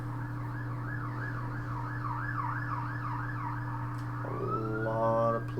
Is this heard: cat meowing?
no